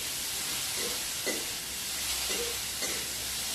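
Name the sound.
stirring food in a cooking pan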